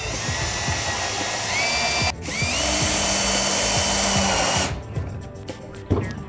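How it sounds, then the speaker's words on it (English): A power drill drives 1.25-inch screws into a wooden pallet lamp, making two sustained close whirring runs with a short pause between them, then stopping. "And then use the drill to fasten it."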